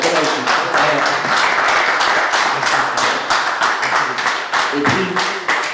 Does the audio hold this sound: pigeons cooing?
no